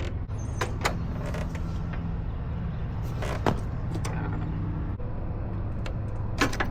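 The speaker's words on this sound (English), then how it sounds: "Pull that lug wrench until you break that nut free." A lug wrench strains against a lug nut on a Harley-Davidson motorcycle wheel during a roadside flat-tire fix, with scattered sharp creaks and metallic clicks over a steady low background hum.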